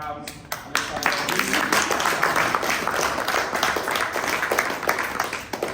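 An audience at a Black History Month humanism talk claps for a guest being introduced, a loose, fairly close patter of hands that starts after a brief voice and carries on steadily.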